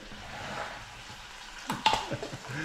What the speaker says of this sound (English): So let's leave that frying for a bit.